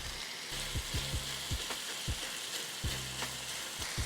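Pork Italian sausage frying in a skillet gives a steady, close sizzle, with repeated scraping knocks as the pieces are stirred and moved around.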